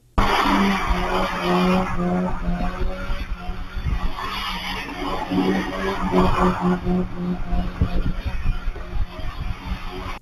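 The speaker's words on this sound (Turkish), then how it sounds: "Aksaray'da yol ortasında drift atarak havaya ateş açtılar." Cars drift across a road in Aksaray, their tires squealing and skidding in long screeching runs over rumbling engines, loud and sustained across the scene with some voices faintly mixed in.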